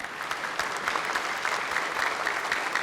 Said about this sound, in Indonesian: Boleh tepuk tangan yang meriah sekarang?